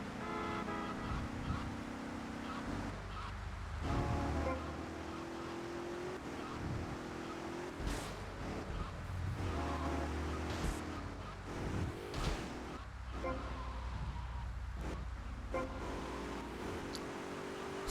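High-speed car racing in the video game GTA Vice City: engines rev and whine continuously, pitch rising and dropping through gear changes, broken by thuds and horn-like tones, with no one speaking.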